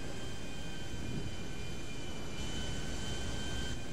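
Steady, dense engine roar from a fixed-wing airplane in an RPG-versus-planes video game, loud and continuous with faint high tonal whines riding on top, no talking.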